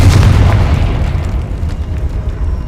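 A Confringo explosive spell from the video game Hogwarts Legacy goes off as a loud, deep boom, then a rumbling tail that slowly fades.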